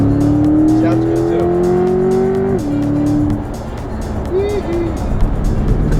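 Chevrolet C8 Corvette with a 6.2-liter engine and 8-speed dual-clutch transmission pulls hard, its loud engine tone climbing steadily, dropping at a shift, then rising again under a rumbling, close roar.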